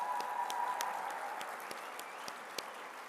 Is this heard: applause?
yes